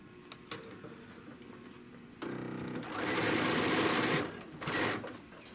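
A sewing machine runs a quarter-inch seam on a fabric bag, with a steady rapid stitching whir in two close bursts after some quiet handling noise, the second burst shorter.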